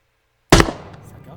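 A TOW anti-tank missile launching in Squad: one sharp, loud blast that starts abruptly from silence and then trails off into a fading rumble.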